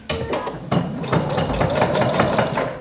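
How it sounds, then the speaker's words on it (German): A sewing machine stitches the second side of a dress, running in a fast, rhythmic chatter that starts and stops, then settles into a steady, close run. "Und jetzt nähe ich die zweite Seite"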